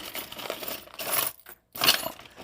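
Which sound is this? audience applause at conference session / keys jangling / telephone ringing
keys jangling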